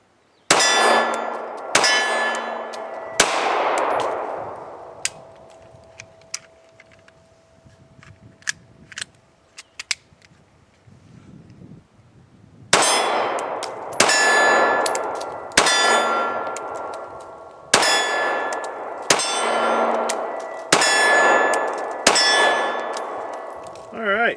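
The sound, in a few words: Springfield Hellcat pistol being fired, extended magazine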